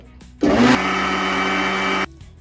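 A mixer grinder whirs loudly as it blends neer dosa batter, starting with a harsh surge and then settling into a steady high motor whine for about a second and a half before cutting off.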